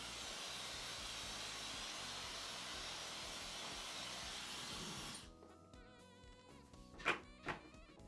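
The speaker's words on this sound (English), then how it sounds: "I'm gonna take my Dyson because I seen that like cools everything down really quickly." A Dyson hair dryer blows with a steady, fairly close airy whoosh for about five seconds, then shuts off, leaving near quiet with a couple of faint knocks.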